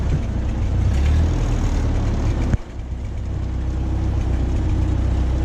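A Ford 8N tractor with a front loader idles close by, a loud steady low rumble with a brief dip partway through before settling back to an even chug.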